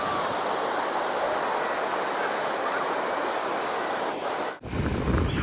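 Sea waves at Arambol Beach in Goa, a steady broad roar of surf with wind noise that holds nearly constant, then dips briefly near the end before resuming loudly.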